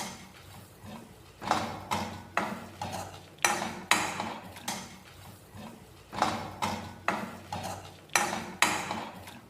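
Grated coconut being dry-roasted and stirred in a metal pan until golden brown, giving a rhythmic series of scraping, clinking spatula strokes in bursts, close and fairly quiet, with no talk.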